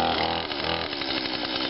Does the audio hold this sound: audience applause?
no